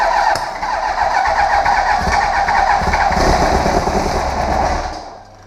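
A 2001 Yamaha YZF R1 motorcycle engine fires up on starter fluid, a loud, close, steady roar that holds for several seconds before dropping away at the end.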